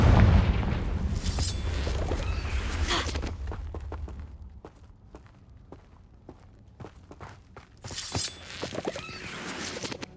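Confringo blasting spell in Hogwarts Legacy: a heavy explosion burst with rumbling low end that fades, followed by scattered crackling debris and footsteps, then a second smaller blast near the end.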